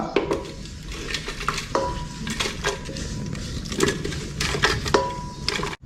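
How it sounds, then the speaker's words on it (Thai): Dry spices rattle and scrape in a pan as they are dry-roasted and stirred, with repeated metallic clinks of a utensil against the pan and a faint sizzle beneath. "เดี๋ยวขอคั่วก่อนนะครับ"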